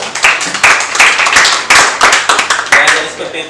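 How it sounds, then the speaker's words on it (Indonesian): Clapping for a presenter during an online art-education class session, a handful of sharp, uneven hand claps in a loose rhythm, close and fairly loud, over a faint busy background. "Beri tepuk tangan buat Hasimi."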